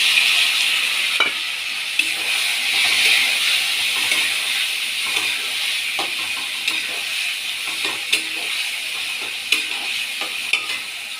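Grated tomato hits a hot pan for a fish curry with ridge gourd, potato and pointed gourd, setting off a steady loud sizzle and hiss with occasional stirring clicks.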